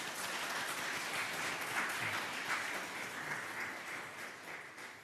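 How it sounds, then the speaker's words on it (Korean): A church congregation at a Sunday service gives warm, sustained applause, steady and moderately faint, filling the room for the whole stretch without any voices over it. "잘 다녀오시기를 바라는 마음으로 뜨거운 박수 드리겠습니다."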